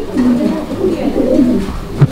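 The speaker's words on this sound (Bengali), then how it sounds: "এটা হচ্ছে ম্যাকপাই কবুতর একটা জোড়া" A pair of magpie pigeons coo close by in soft, low, rolling phrases that repeat over a couple of seconds, loud and clear with little else around.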